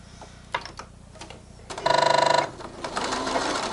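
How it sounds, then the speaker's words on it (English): A sewing machine stitches around the edges of thick mermaid tail fabric in one short, loud rapid burst, preceded and followed by quieter handling clicks and rustles. "let's go over to the sewing machine. We are going to sew around the edges of all of these things"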